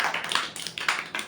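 A group of students clapping together in a classroom, with sharp, fairly quiet claps landing in a loose, steady rhythm about four times a second.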